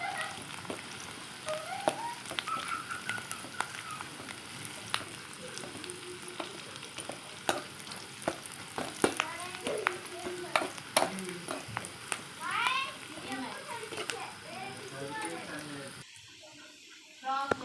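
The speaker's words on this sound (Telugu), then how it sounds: "అందులో కొంచెం కరివేపాకు వేసుకొని వేగనివ్వాలి." Curry leaves and onions fry in hot oil, giving a continuous crackling sizzle with frequent sharp pops and utensil clicks, joined by a cat's meowing and brief voices before the frying cuts off near the end.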